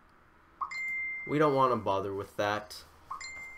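A mobile phone sounds short electronic notification beeps, one early and another near the end, faint under someone talking during a Magic: The Gathering match.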